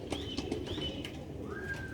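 A pigeon coos close by among rooftop birds, with sharp high chirps and whistling calls repeating over a soft low hum.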